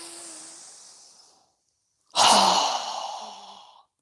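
A strong, forceful exhale during a yoga breathing exercise, a loud breathy rush lasting over a second, preceded by a softer fading breath and a brief pause.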